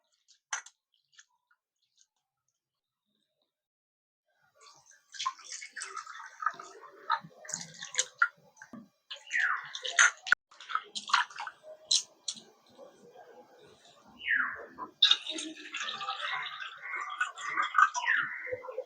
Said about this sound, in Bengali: চিড়েটা একটু ঘষে ঘষে ভালো করে ধুয়ে নেবো